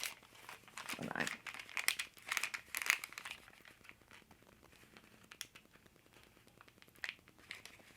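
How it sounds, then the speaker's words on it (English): Dried skins of mixed glue and acrylic paint are peeled off parchment, making close, faint crinkling and crackly tearing sounds in short bursts, with a voice talking quietly over them. "This is glue and acrylic paint mixed together. And they're on parchment. And you just peel them off."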